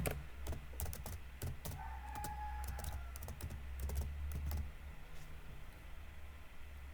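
Keys clatter on a computer keyboard in irregular bursts of close, crisp clicks, some quick runs and some single taps, over a low steady hum, while a Windows folder is being created for a Python tutorial.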